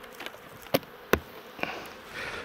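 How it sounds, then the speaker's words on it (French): A few bees inside a hive feeder give off a faint, thin hum that drifts along quietly, broken by several sharp knocks and clicks, with no voices. "Quelques abeilles dans le nourrisseur."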